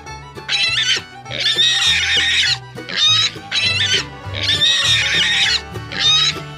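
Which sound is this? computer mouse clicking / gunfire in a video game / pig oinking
pig oinking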